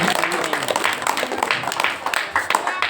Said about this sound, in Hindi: जोरदार ताली बजा करके आप स्वागत करें और जोर से ताली करें